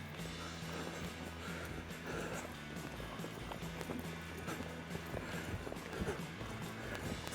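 Horse hooves trot in a steady rhythmic clip-clop on soft ground in a small arena, circling to the right, faint and continuous, with a low hum in the background.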